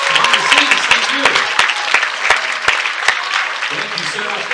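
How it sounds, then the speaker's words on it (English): Aboard the cruise ship Quantum of the Seas, an audience at a night show applauds the technical team with sustained clapping, while someone talks and whistles rise above the crowd. "would you please give a nice round of applause for our whole technical team doing an amazing job behind the scenes"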